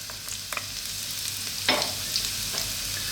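Onion, garlic, celery and a little bacon start in hot corn oil in a pan, a soft, faint sizzle with light scrapes and stirring clatter over a low background hum.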